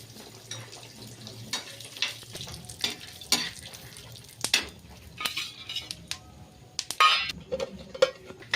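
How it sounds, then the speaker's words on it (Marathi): Peanuts dry-roasting on a flat iron griddle as they are stirred, giving a soft steady rustle and scrape with irregular clinks and knocks of the utensil against the pan, close and fairly quiet, with no talking. "शेंगदाणे टाकले आपण तव्यावर आता छान लालपैकी छान भाजून घेऊ आपण शेंगदाणे पण"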